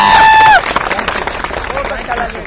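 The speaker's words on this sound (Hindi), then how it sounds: "एक बार माता जी के लिए जोरदार तालियां" An audience breaks into loud applause and cheering for a man's mother at a motivational talk, a dense wash of clapping and crowd noise that follows a brief tonal sound and then holds steady.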